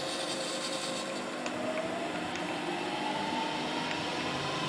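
Machine cutter spinning at about 1400 RPM while cutting a hole pattern in an odd-shaped plate, cutting poorly: a continuous, even whirring grind with a faint rising whine and occasional light ticks, steady throughout and with no voices.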